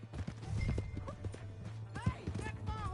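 Horse hooves clip-clop in the video game Red Dead Redemption 2, with a whinny and overlapping voices talking above the steady hoofbeats.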